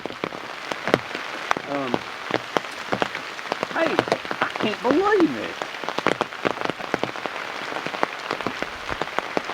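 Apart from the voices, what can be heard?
rain falling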